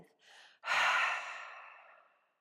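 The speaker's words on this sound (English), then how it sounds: "Exhale through the mouth." A long, strong breath pushed out through the mouth during a breathwork stretch, rushing loud at first and slowly fading, after a brief softer breath just before.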